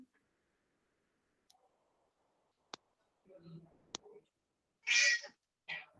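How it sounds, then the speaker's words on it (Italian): A cat meows a few brief times near a microphone amid quiet sharp clicks and ticks, while a person speaks softly at moments. "Vedi che miagola."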